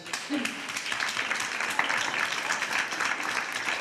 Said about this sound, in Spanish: un aplauso para vosotros todos